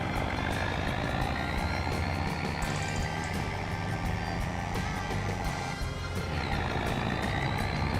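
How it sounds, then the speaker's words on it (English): Old truck engine labouring under load in Farming Simulator 25, a continuous loud strained drone with shifting whine and steady rumble, holding throughout the stretch with no talk. "This poor truck's struggling."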